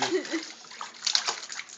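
A baby splashes water in a bath, with short wet slaps and sloshes in quick bursts, close and fairly loud, alongside a little bubbly background noise.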